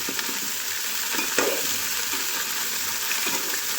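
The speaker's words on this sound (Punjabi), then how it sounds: "ਤਾਂ ਜੋ ਸਾਡੀ ਗੋਭੀ ਬੜੀ ਚੰਗੀ ਤਰੀਕੇ ਤੇਲ ਤੇ ਮਿਕਸ ਹੋ ਸਕੇ ਤੇ ਥੋੜੀ ਜਿਹੀ ਤਲੀ ਜਾ ਸਕੇ" Cauliflower fries in oil with spices while being stirred, a steady close sizzle with faint scraping and stirring knocks scattered throughout.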